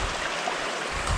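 A water stream rushes at Bhagsu waterfall on a mountain trek in India, a loud, close, continuous broadband roar without pause.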